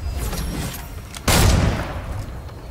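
Gunfire in the video game Fortnite: a loud, sharp blast that rings out suddenly over quieter scattered game noise, then fades.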